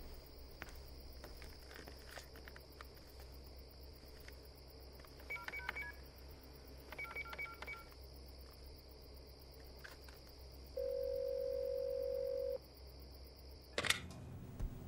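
Telephone number being dialed: faint, crisp keypad tones sound in small clusters over a quiet night backdrop of chirping crickets, followed by a longer steady tone and a brief clatter at the end.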